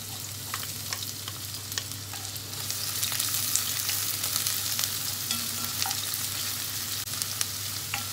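Onions fry in olive oil in a pan for a sopas with corned beef, giving a steady, close sizzle with crackling pops and a faint low hum underneath, no voices.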